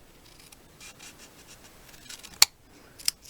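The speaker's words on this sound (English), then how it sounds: "you take your Blackberry Bliss piece and you cut it in half" Scissors cut a piece of Blackberry Bliss cardstock in half at close range, faint rubbing and sliding paper followed by a couple of crisp snips near the end in a quiet room.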